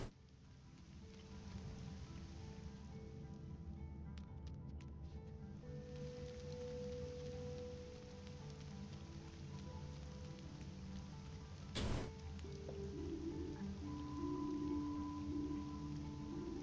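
Steady rain patters softly on surfaces outdoors, a faint continuous hiss with scattered light ticks, and one brief bump partway through.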